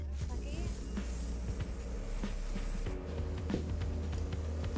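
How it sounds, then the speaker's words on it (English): Cooking oil sprayed onto a dough mat, a steady close hiss running through the first three seconds above a busy kitchen background with faint clatter. "we're going to spray oil here"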